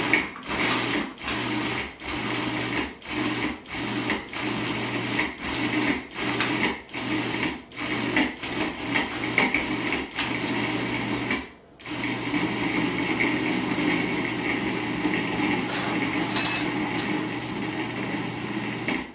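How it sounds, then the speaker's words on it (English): Countertop blender pulsing frozen cherries and bananas into soft-serve style ice cream, a steady close motor whine in repeated short bursts, then one longer continuous run after a brief pause. "Okay, so then I put the lid back on and pulse some more."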